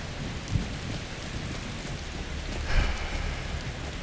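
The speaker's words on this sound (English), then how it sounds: "You don't have to sit in the rain, you know." Heavy rain pours steadily in a video game battle for Windhelm, with two low thunder rumbles breaking through the downpour, the second louder and closer.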